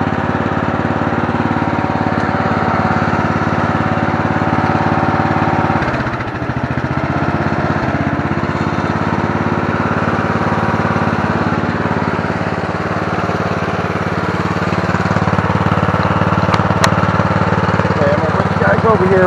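A Murray Select 17.5 hp riding lawn mower with a 42-inch deck idles with a steady, close, droning engine rumble that dips briefly near the middle before settling back to an even idle.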